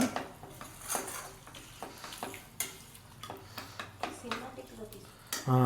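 A ladle stirring pickle in a metal pot, scraping and clinking in irregular strokes, close and fairly loud, with a voice talking in between.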